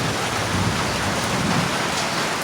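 Heavy rain pours down in the countryside of the Dominican Republic, a loud, dense, continuous hiss of drops hitting surfaces close by, with no voices over it.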